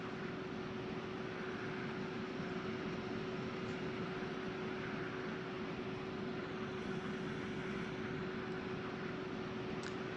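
An EasyJet airliner in X-Plane 11 taxis past at Manchester Airport as a steady, fairly quiet engine whine and broad rumble with a constant tone, no voices.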